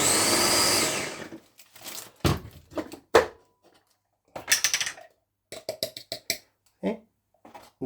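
A little Ninja blender with a blade blitzing onions. It runs as a loud burst at the start, then cuts to short intermittent pulses and clatters in separate bursts with quiet gaps between them.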